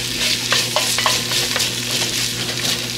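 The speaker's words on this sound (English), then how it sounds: "So now we're gonna stir that in." Tomato paste stirred into a gumbo-laya pot, a steady close sizzle with rhythmic spoon scrapes against the pot roughly every half second, fairly loud and with no talking.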